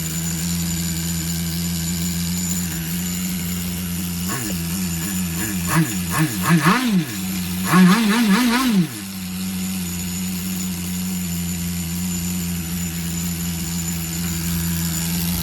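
A Tamiya TGS-R Nitro XB Subaru on-road RC car has its nitro engine idling at a steady buzz. Partway through, a few quick throttle blips rev it up and down before it settles back to a smooth idle.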